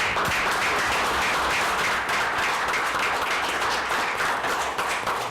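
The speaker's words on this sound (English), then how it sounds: "I think we owe him a round of applause" A committee audience at an economic development meeting applauds Representative Herbert Dixon, a steady, dense wash of clapping that holds at an even level throughout without pausing.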